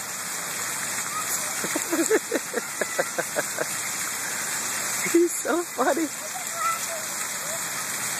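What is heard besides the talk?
water escaping down a drain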